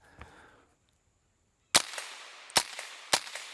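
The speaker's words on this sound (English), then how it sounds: "I'm shooting some 40 grain Maxi Mags, and let's just do some plinking" A Tippmann M4 rifle in .22 Magnum firing 40 grain Maxi Mag rounds while plinking, three sharp, close cracks about a second apart after a brief quiet stretch, with no talking.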